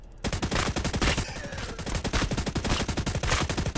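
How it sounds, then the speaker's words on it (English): A Gatling cannon fires in the Warhammer 40000 Battlesector video game, a loud, rapid, unbroken stream of shots that starts abruptly and rattles on to the end. "And then we'll use the Gatling cannon here."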